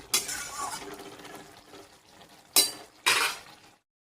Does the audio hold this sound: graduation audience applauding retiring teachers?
no